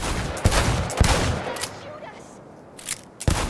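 Gunfire in a shooter video game, several sharp shots in quick bursts with gaps between them, close and loud, with a brief lull before the final shots.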